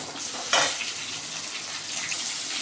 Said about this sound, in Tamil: தக்காளி போட்டு வதக்கிக்கலாம்.